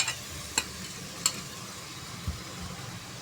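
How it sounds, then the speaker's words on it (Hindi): Chicken stirred into hot masala in a pan, a faint low sizzle with a few sharp clicks of a spoon against the pot, quiet and close with no talking. "और अब इसके अंदर हम गोश्त ऐड कर देंगे चिकन।"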